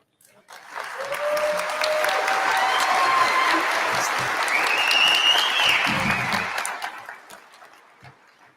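A commencement audience breaks into sustained applause, dense clapping from a large crowd that swells quickly, holds steady for several seconds, then tapers off.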